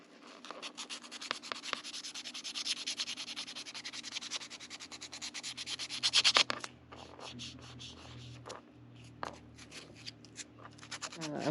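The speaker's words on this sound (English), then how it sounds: "use just a little bit of fine grit sandpaper to roughen the surface" Fine grit sandpaper rubbed over the surface of a foam mask, a steady close scratchy hiss with quick back-and-forth strokes for several seconds, then softer intermittent rubbing.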